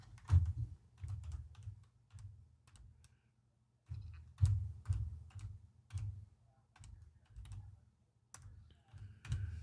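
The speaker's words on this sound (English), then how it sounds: "Hitting the wrong keys there." Keys on a computer keyboard are typed in irregular bursts of close clicks and taps, with brief pauses between runs, recorded during a live Arduino stream.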